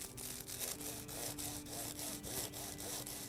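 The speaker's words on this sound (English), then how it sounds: "And now I'm just gonna trim the ends of the Basteeya." A knife trimming the ends of a duck confit basteeya pastry, giving a steady rhythmic scraping and sawing sound, close and fairly quiet.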